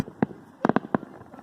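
Fourth of July fireworks bursting in a quick irregular string of sharp, fairly close bangs, one early pop then a tight cluster of four, with faint background noise between and no talk.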